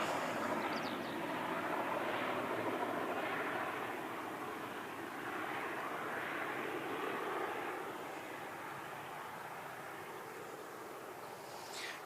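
A plane in black livery at Christchurch Airport sends out a broad, steady engine rumble that swells early and then eases slightly as it moves along, with no talk over it.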